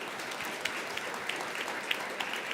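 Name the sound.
audience applause for the speakers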